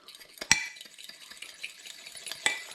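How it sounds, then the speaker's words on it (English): A whisk stirs icing sugar mixture in a glass jug toward stiff peaks for Christmas cake icing, giving a faint, steady scraping and stirring with two sharper clinks against the jug. "And now I've got to whisk."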